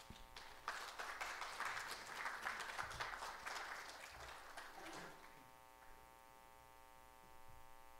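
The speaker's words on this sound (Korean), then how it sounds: "다시 한번 큰 박수 부탁드립니다" Audience at a KIST lecture applauding for about five seconds, a soft, distant patter of many hands that fades out, leaving a steady electrical hum beneath.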